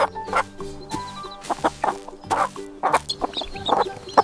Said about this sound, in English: This is a chicken.